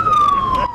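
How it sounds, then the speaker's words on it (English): A warning siren sounds at full volume near a riverside community by the Volta River, testing readiness for a possible dam spillage at Akosombo; a steady, slowly falling wail carries loudly through the short moment with faint background noise. "Sirens blaring at full amplitude, alerting residents of this community living near the Volta River of a possible danger."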